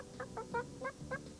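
A human voice imitates chickens clucking, making five quick, throaty, evenly spaced clucks that are fairly soft and close, with no other talk.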